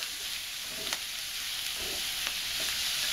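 Bacon and cabbage frying in a pan, large ball cabbage softening as it cooks: a steady broadband sizzle with a few soft stirring scrapes and clicks, close and even throughout, no voices.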